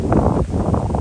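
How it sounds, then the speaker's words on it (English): Steady low rumbling wind in Florida buffeting the microphone near a floating dock, loud and continuous throughout with no voices. "It's windy today."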